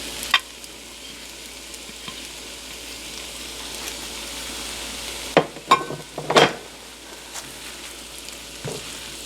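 Onions sizzling in a hot pan while being stirred in for chicken chow mein, a steady frying hiss with a few louder clatters and scrapes partway through.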